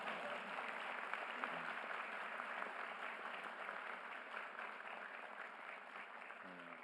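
A crowd at a presidential town hall meeting in Jeju claps steadily for several seconds, a broad, even wash of applause heard at a distance with no voices over it.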